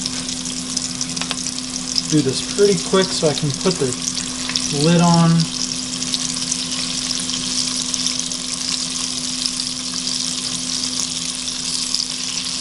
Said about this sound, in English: So gently drop them into the pan. They're going to get a nice sizzle on them.